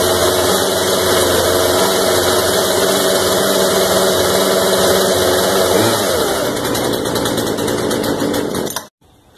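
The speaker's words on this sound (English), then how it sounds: "So I was able to start the chainsaw following the startup instructions" A Poulan 3314 chainsaw that won't stay running runs loud and steady at a high buzzing pitch, then its tone drops and it cuts off abruptly near the end.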